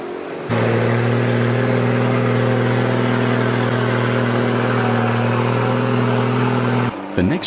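A military 5-ton truck engine roars at full throttle while pushing through a deep mud hole, a steady, loud, heavy drone that holds nearly unbroken for about six seconds before abruptly dropping off.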